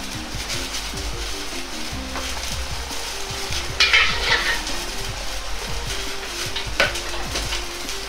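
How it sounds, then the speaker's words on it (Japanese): Oil heating and sizzling in a pan, two tablespoons poured in to fry eggplant for mapo eggplant, with a steady low hiss, a brief louder crackle midway, and occasional utensil clinks. "鍋を温め、大さじ2の油を入れます。"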